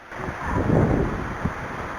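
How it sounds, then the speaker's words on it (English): Strong wind buffets the microphone in a rising and falling roar, loud gusts with a low rumble and no voices. "Well, it's very windy."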